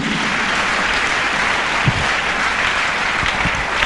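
A church congregation claps and cheers in praise of Jesus, a dense, loud, continuous roar of applause with a few sharper claps near the end.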